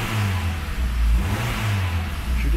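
A Renault Sandero engine revs up steadily in a service workshop, a loud, sustained mid-pitched drone that rises and falls slightly with throttle, with no talking over it.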